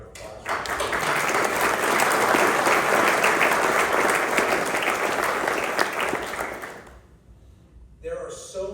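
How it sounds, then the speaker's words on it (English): A round of applause at a battlefield preservation association's anniversary celebration, sustained crowd clapping that swells, holds for several seconds, then dies away before a voice resumes. "We need to give you a round of applause."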